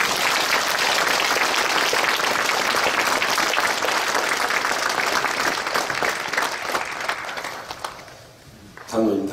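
A church congregation applauds warmly during a retirement and ordination ceremony as elders step down, a sustained burst of many hands clapping that tapers off near the end.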